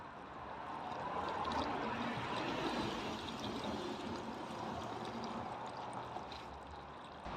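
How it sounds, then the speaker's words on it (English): Water pours and splashes steadily onto soil around a newly planted laurel hedge, a soft continuous gush heard fairly faint without voices. "Start watering"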